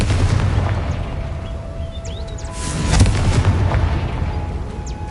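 A Confringo fire-blast spell explodes in the video game Hogwarts Legacy, a booming burst that swells around the middle over a rumbling ambient bed with faint bird-like chirps, no talking.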